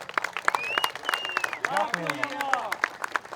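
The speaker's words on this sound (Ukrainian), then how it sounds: "оплеска" Rhythmic clapping from a crowd at a charity amateur volleyball tournament in Barcelona, honoring volunteer soldiers, with steady beats under cheering voices and a whistle-like shout.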